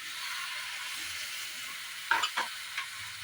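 Milk splashes into pasta cooking in a pan, under a steady faint sizzle, followed by a few brief scraping stir sounds near the end, with no talk.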